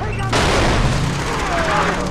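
Rocket launcher fire in Far Cry 3: a sudden loud boom at the start, then a sustained roaring blast and rumble that fills the rest of the clip, with no one talking.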